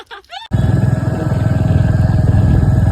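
A motorcycle engine starts up abruptly after a brief moment of talk and then runs steadily and loudly, with a rough, pulsing low rumble.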